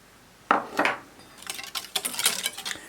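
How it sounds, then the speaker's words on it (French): A whisk scrapes and clinks against a bowl of cookie batter with brown sugar: two sharp metallic knocks, then a quick run of rhythmic tapping and clattering strokes, close and fairly loud, with no speech. "et on fouette"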